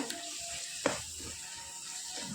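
Ground spices and homegrown turmeric fry in a pan with a faint, steady sizzle, broken by one sharp stir or scrape near the start and a softer rustle toward the end.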